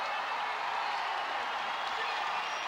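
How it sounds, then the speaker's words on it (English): A crowd at a men's volleyball match cheers and applauds after a long rally, a steady broadband roar that stays loud and even with no break. "Crowd enjoying."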